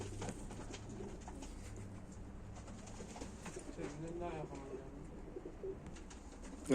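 Tumbler pigeons coo softly and repeatedly nearby, with rolling throaty calls overlapping in a quiet setting.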